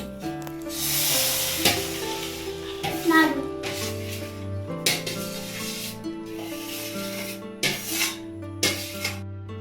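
A coconut and cardamom laddu mixture is stirred and fried in a wok, giving rough scraping, sizzling bursts at irregular intervals beneath voices talking throughout.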